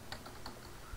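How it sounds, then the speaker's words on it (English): Keys click softly on a computer keyboard as a search term is typed, a quick, faint run of close taps with no talking. "in the search bar, type colorful tabs"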